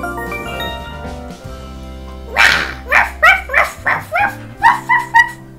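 A dog barking in a rapid series of about eight loud, close barks in an uneven rhythm, following a lower stretch of background sound without talk.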